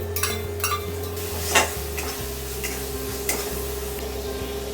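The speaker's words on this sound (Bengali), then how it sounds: "ফেটিয়ে রাখা দু থেকে তিন টেবিল স্পুন কার্ড বা দই সেটা আমি এবার একটু মিক্স করে নিচ্ছি" A spoon stirs whisked yogurt into curry masala in a pan, soft scraping and clinking strokes with a faint sizzle and a low steady hum beneath, no talking.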